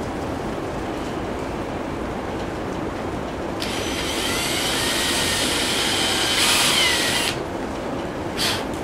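A large drill bit bores into metal during a PTO modification on an MF Model 25 hay rake, a steady high-pitched power-tool whine running for several seconds with a louder peak near the end, close and alone.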